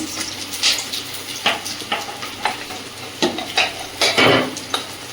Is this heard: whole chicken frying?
yes